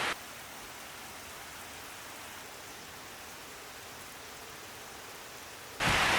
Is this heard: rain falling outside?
yes